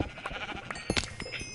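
A few short sheep bleats from Minecraft come through near and fairly loud, scattered over a busy backdrop of other game sounds.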